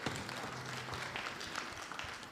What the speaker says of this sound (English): Give a round of applause to Rishi Prabhu here.